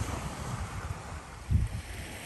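Wind and sea waves at a beach make a soft, constant rushing wash with low rumbling swells, one fuller surge midway, fairly faint and distant with no voices.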